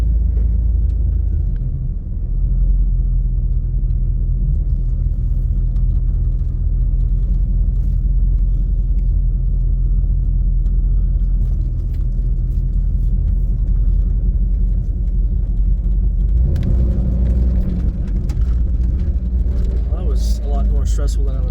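Old Chevrolet squarebody Suburban truck on a long drive, its engine a loud, steady low rumble heard from inside the cab, with a rattling rise in noise near the end.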